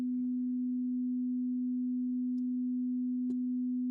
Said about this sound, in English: Here's what just the fundamental of 250 would sound like.